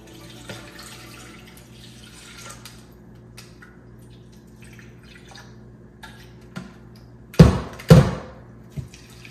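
Water rinses shredded cucumber in a bowl: faint drips and small splashes at first, then two loud close gushes of water in quick succession, followed by a last small splash.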